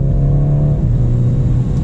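A 2021 BMW 430 Convertible in sport mode accelerates on a highway, its engine holding a loud, steady drone that climbs in pitch, dips briefly as it shifts, then rises again.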